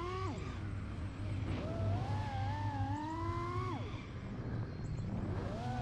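Whirring FPV drone motors and propellers, the motors and props damaged and vibrating, with a steady tonal whine that rises and falls in pitch through a flight, loud and close with no talk.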